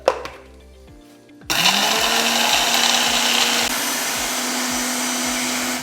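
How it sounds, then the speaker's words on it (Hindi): A mixer grinder whirs up loudly after a short quiet clatter, grinding roasted ingredients into an immunity powder with a steady high motor drone that drops slightly in pitch partway through. "ठंडा होने के बाद हम इसको ग्राइंड करेंगे"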